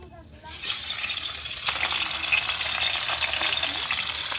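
A big fish dropped into hot oil in a pan: after a brief quiet moment, a sudden loud sizzle erupts and settles into a steady, bright crackling fry that continues close by.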